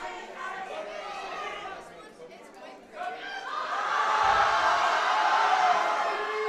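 A crowd at a high school powerlifting nationals meet rises from busy chatter into loud, sustained cheering and yelling, building toward the end with a brief low thud partway through.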